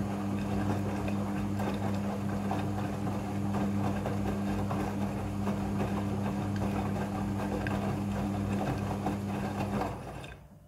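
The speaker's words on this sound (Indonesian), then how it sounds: "Setelah proses pemerasan selesai, masuk ke proses pembilasan air yang kedua." A Midea front-loading washing machine rinsing trousers churns with a steady mechanical hum and rapid rhythmic clatter of tumbling and sloshing, moderately loud and continuous before cutting off abruptly at the end.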